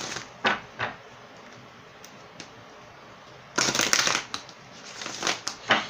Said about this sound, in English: So let's pull some oracle cards here before we pull some